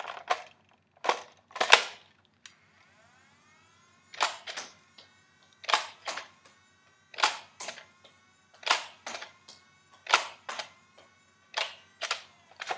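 Nerf Rayven foam dart blaster fires darts in a series of sharp, close snapping shots spaced about a second apart, with brief mechanical whirs between shots and no talking.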